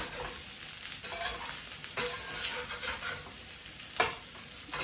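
Pan-toasted gnocchi sautéing in a pan, a steady sizzle with soft stirring scrapes and a couple of sharper clicks, close and unvoiced.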